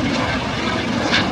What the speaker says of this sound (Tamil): இங்கே இன்னொன்று வருது பாருங்கள் ஹெலிகாப்டர்.